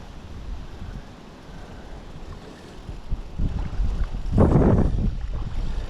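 Strong wind whips across open water, a broad rushing roar with heavy buffeting gusts against the microphone that swell and peak loudly near the end, with no voices.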